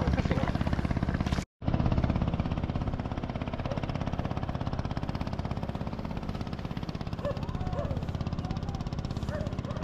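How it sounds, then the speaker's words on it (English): A motorboat in Halong Bay throbs with a rapid, steady engine chatter close by, briefly cut off once near the start and then continuing evenly, while people talk over it. "No, it's a motorboat."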